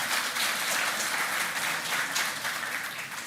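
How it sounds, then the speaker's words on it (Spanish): Steady applause from an audience at a tribute conference in a hall, a continuous dense wash of many hands clapping at even loudness throughout, with no voices over it. "Palmas para él."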